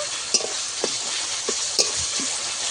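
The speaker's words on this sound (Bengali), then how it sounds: "বাটাও দিয়ে বেশি করে কষিয়ে নেব।" Ginger-garlic paste sizzles in a pan with onions already browned, a constant hissing fry punctuated by a few sharp spatula scrapes and knocks against the pan.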